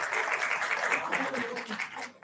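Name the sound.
audience applause welcoming delegates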